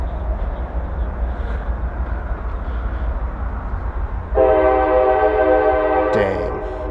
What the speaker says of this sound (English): And have a huge train noise.